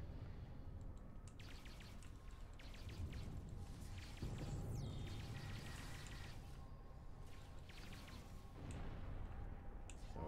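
Plasma split beam rifle fire in Star Trek Online, a steady run of rapid, quiet energy-weapon shots with crackling bursts and booming impacts mixed into continuous battle noise throughout.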